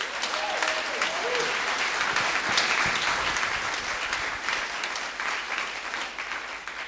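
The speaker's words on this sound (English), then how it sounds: "applause for your achievements." An audience applauds the insurance apprentices at an awards-style event, steady full clapping that carries on throughout and eases slightly toward the end, with a brief voice near the start.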